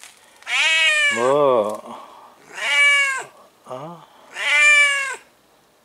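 A cat meows loudly and insistently at close range, three long drawn-out cries spaced by pauses, with a person speaking briefly between them.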